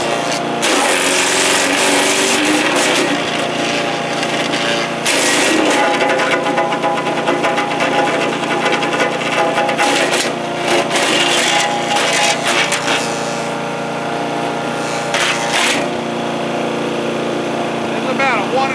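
A compact budget wood chipper shreds a stick about 1.5 inches thick: a loud, close motor roar runs throughout, broken by crackling bursts of splintering wood.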